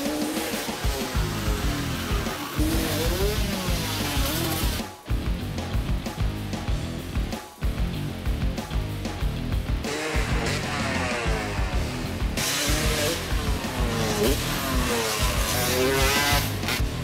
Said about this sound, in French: j'ai une moto full freestyle, les suspensions sont plus dures, les pneus sont finis